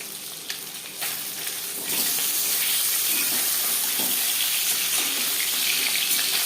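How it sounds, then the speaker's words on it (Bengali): Pieces of katla fish frying in hot oil in a pan give a close, dense, steady sizzle that swells louder after about two seconds and then holds. "ভাজা হয়ে গেলে অপর সাইডটা উল্টে দেবো।"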